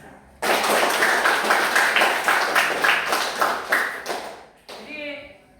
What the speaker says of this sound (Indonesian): Kita tepuk tangan untuk Anissa.